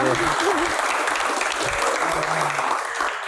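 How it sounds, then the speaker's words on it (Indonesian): Audience applause in a televised Q&A studio, steady clapping from a seated crowd carrying on for a few seconds, with faint voices underneath. "tepuk tangan buat Pak Azwar Anas."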